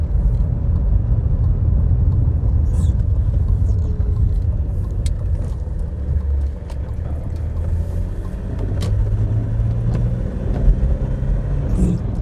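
A classic car's engine runs steadily with a low, continuous rumble from inside the cabin, a few faint clicks and knocks on top, with no talk.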